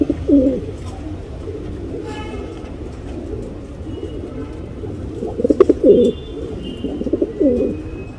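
Breeder's pigeons coo in low, soft bursts, with a couple of clearer coos near the start and toward the end over a quiet background murmur.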